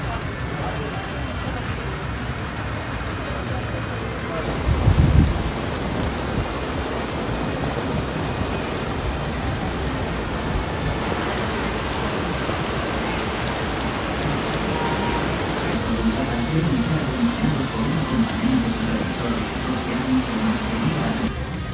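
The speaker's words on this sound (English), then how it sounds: "And here comes the rain." Steady heavy Florida rain hisses and patters continuously, with a brief low rumble early on; soft voices are faintly audible beneath the downpour.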